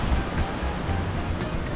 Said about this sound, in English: It's windy as crap, so that's good.